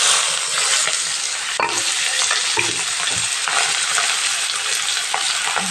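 Chopped onion and green chilli frying in leftover fish oil in a pan, a steady loud sizzle throughout with occasional stirring scrapes, no talking.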